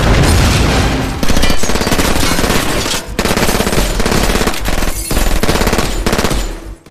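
Sustained movie gunfire, automatic bursts and rapid shots aimed at a man fleeing through a window, loud and dense throughout with brief breaks between volleys.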